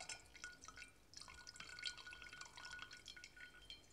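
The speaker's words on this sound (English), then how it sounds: "By ensuring a constant but regulated flow of water, falling into little drops onto the crystals." Little drops of water falling onto crystals in a constant, regulated flow, a quiet irregular patter of bright glassy drips, heard alone.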